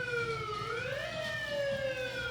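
An ambulance siren wails steadily in a 3rd of July street parade, a clear rising and falling tone over low crowd and engine rumble, with no talking.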